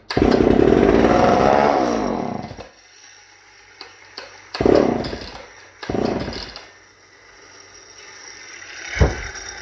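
A Homelite XL 922 Super chainsaw engine roars loudly for a couple of seconds, then dies, followed by several short pull-start bursts and sputters with quieter gaps between them.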